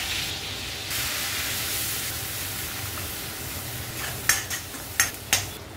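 Cumin seeds and ginger garlic paste frying in a pan for paneer lababdar, a steady close sizzle with soft stirring, then several sharp spoon or utensil clicks against the pan near the end.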